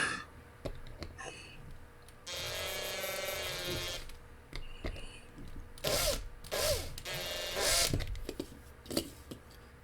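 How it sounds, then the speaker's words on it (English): A small drill whirs in short bursts into a plastic diecast car base, one long steady run then several brief high-pitched spurts with clicks and handling noise between, close up. "Did I drill this one far enough?"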